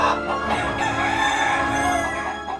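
A hen in a cartoon farmyard clucking and crowing continuously, a dense, loud stretch of fowl calls heard alone for a couple of seconds.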